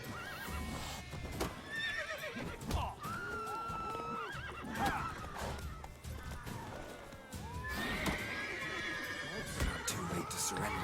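Roach the horse in The Witcher 3 video game neighs and whinnies repeatedly over clip-clopping hooves, with someone talking throughout.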